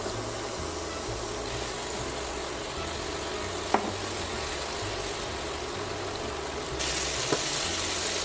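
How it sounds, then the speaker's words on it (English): Sausages, mushrooms and tomatoes fry together in a pan, giving a steady, loud sizzle with a few faint clinks, and no talking over it. "I'm cutting the sausages into smaller pieces, then I'm adding the mushrooms and tomatoes right into the pan."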